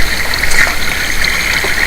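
Water flows in the Minecraft video game, a loud, continuous trickling and gurgling stream with small bubbling accents, heard alone without speech.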